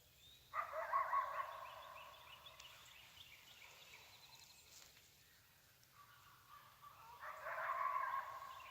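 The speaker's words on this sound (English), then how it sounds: "It sounds like someone else is over there with a box call." Raspy turkey-style yelps from a box call out in the woods during a turkey hunt, two bursts separated by a quiet stretch, moderately far and faint.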